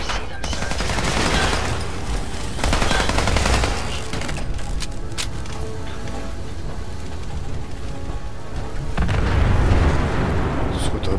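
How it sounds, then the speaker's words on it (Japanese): Big explosions in a video game roar as a dense, sustained rumble with repeated crackling bursts and booms, loud throughout with a swell near the end. "すごい大爆発が起こってる。"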